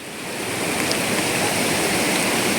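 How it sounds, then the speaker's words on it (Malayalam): A stream swollen and flooded after heavy overnight rain rushes in a loud, dense, continuous roar close by, with no voices. "ഇന്നലത്തെ മഴയ്ക്ക് തോടൊക്കെ ഫുള്ള് പൊട്ടി ഒലിച്ചു പോയിരിക്കുകയാണ്."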